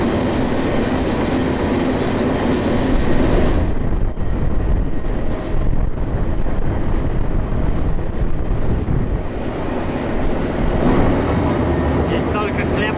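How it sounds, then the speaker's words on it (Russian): Riding aboard a freight train bound for Chicago, a loud continuous rumble and rattle of rolling wagons with buffeting wind noise on the microphone and faint clickety-clack throughout. "И на этом поезде мы едем аж до самого Чикаго"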